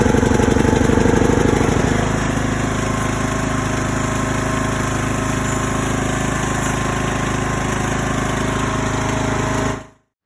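A Toro LX426 lawn tractor's engine runs steady and loud at close range, after being jump-started on choke and briefly running rough, then cuts off abruptly near the end.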